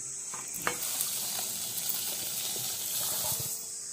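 Palada rice flakes go into boiling milk and are stirred, giving a steady close bubbling hiss with a few soft stirring knocks and scrapes throughout, with no talking.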